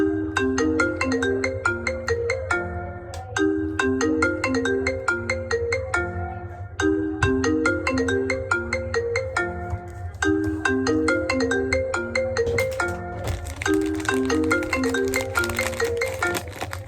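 A phone ringtone plays a loud, repeating electronic melody in steady looping phrases throughout, with a low hum underneath.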